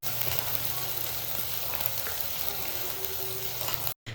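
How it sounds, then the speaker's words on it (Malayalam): Chopped ginger and garlic fry in hot oil in a pan for a fish curry, giving a steady, close, crackling sizzle throughout with occasional faint stirring. "ഈ ഇഞ്ചിൻ്റെയും വെളുത്തുള്ളിൻ്റെയൊക്കെ റോ ടേസ്റ്റ് ഒന്ന് മാറുന്ന വരെ എണ്ണയിൽ നന്നായിട്ട് മൂപ്പിച്ചെടുക്കുക"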